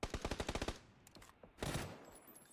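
A fast, evenly spaced burst of about ten gunshots in PUBG, loud and close, followed by quieter scattered game noise and a short burst of static-like rumble.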